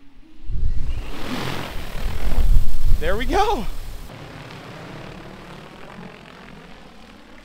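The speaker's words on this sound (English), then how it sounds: "The propellers will start spinning, and then just raise the left joystick and the drone will go right up." Agricultural spray drone propellers spinning up on a farm at takeoff, a rising whirring roar that swells for a few seconds and then eases into a steadier lower hum, with someone speaking briefly over it.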